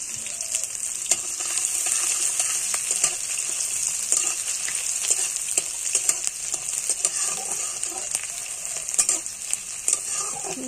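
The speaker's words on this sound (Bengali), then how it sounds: "এটা পেস্টটা ভালো করে ভেজে নিয়ে এবার" Garlic paste sizzles steadily in hot oil in a pan, a close, continuous frying hiss broken by scrapes of stirring, no talk.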